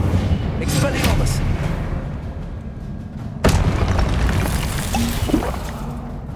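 The Incendio fire spell going off in Hogwarts Legacy, a sudden booming blast midway through amid ongoing whooshing game effects and other bursts, with voices calling out over the action.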